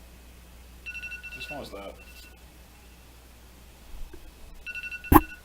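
A phone ringtone goes off during a live Magic: the Gathering tournament broadcast, sounding in two short tonal bursts that are fairly faint behind people talking.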